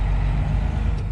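A semi truck pulls away from a stop, its diesel engine giving a steady, loud low rumble that holds evenly throughout, with no voices.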